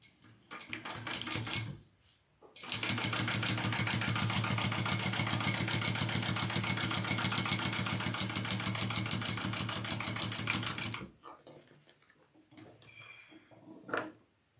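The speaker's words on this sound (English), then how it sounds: "when we sew this piece down, it's also going to sew the other piece of that first panel that we put down" A home sewing machine runs in one steady burst of about eight seconds, stitching down a panel of a crossbody bag with a fast, even mechanical chatter. Quieter handling noises come before and after it.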